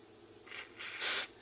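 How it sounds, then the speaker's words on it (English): Cleaner sprayed onto the control wafer of a NuTone N482 apartment remote station, three short hissing spray bursts, the last the longest and loudest, close and alone in a quiet room. "all you really have to do is spray a little cleaner"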